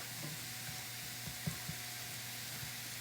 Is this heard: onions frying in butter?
yes